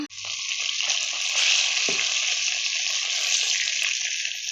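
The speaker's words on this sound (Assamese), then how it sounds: "এয়া চাওক ভাজি আছোঁ" Small darikona fish from a home pond fry in hot oil with a steady, bright sizzling hiss that holds throughout, with a few faint clinks in the background.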